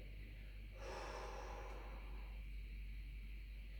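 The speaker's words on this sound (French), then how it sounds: "Vous soufflez, vous inspirez." One slow, audible breath out followed by a breath in during a seated arm exercise, lifting a bottle from the shoulder upward, heard close and soft against a low steady background hum.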